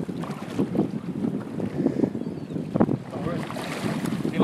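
Outboard boat motors run near sharks being hand fed at sea, a rough churning drone mixed with wind buffeting and water splashes, close and uneven, without talk.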